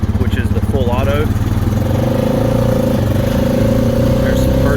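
A 2016 Honda Rancher ATV with automatic DCT shifting accelerates close by in the rain, its engine note climbing, dropping at a shift, then holding a steady throbbing drone.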